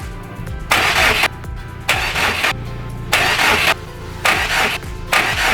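A 2002 Subaru WRX wagon engine is cranked repeatedly after a fuel pump repair, with loud starter bursts alternating with pauses in a steady rhythm, no clear catch to idle, and no talking.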